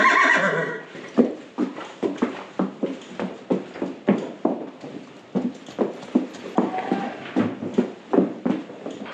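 At stables, a horse whinnies loudly at the start, then hooves clip-clop in a steady, close walking rhythm that continues throughout.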